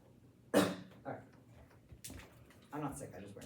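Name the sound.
cough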